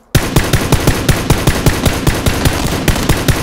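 Loud automatic gunfire in PUBG, a continuous rapid string of evenly spaced sharp shots rattling on for over three seconds with no pauses and no talking.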